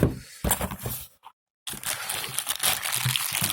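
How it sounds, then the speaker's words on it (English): A plastic bag from the box of a DeWalt 18V XR multitool is handled, giving loud, continuous crinkling and rustling, broken by one brief silent pause before the crackling resumes. "A plastic bag."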